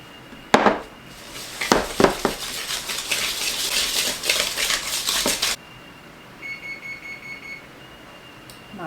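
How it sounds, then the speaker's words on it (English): A metal whisk beats eggs into pear bread batter in a bowl: a few sharp clinks, then about three seconds of fast, dense scraping and rattling up close that stops abruptly, followed by a short series of faint electronic beeps from a preheating oven. "Get my whisk, mix it up"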